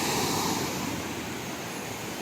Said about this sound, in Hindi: देखिए पानी का फ्लो देख लीजिए